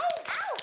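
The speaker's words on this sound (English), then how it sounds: "Let's give that a round of applause as well." A studio audience gives a short, lively round of applause, with rising and falling whoops and cheers carrying over the clapping.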